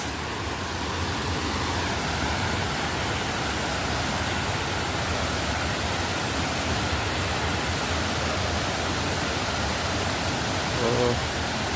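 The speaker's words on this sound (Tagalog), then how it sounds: "balik ulit tayo dito sa falls" Situbo Falls in Tampilisan pours as a loud, constant broadband rush that fills the whole stretch without letup, with a voice briefly present beneath the roar.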